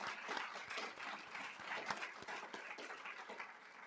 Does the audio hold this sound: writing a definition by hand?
no